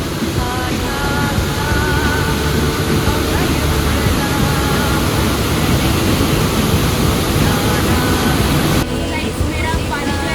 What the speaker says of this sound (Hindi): शायद आपको झरने की भी आवाज़ आ रही हो